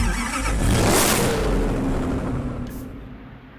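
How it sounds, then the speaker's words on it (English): A Koenigsegg CCX engine in the video game Need for Speed Hot Pursuit Remastered cranks and roars to life, swelling loudly before settling into a steady rumbling idle. No one speaks. "let's hear the engine startup sound"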